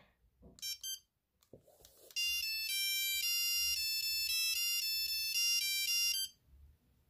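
A few short beeps and clicks, then a loud monophonic Nokia 3310 ringtone plays a quick, busy melody of bright buzzing tones for several seconds before cutting off.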